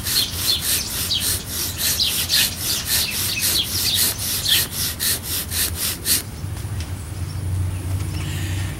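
A wooden bow drill spindle rubs rapidly against a wooden fireboard in fast, even back-and-forth strokes, a raspy rhythmic friction that stops near the end, leaving a quieter hiss and low rumble.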